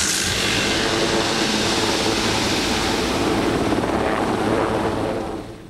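A helicopter used for rescuing people stranded where it cannot land, its rotor and engine noise a steady, loud, broadband roar that holds evenly throughout before trailing off at the end, with no voices.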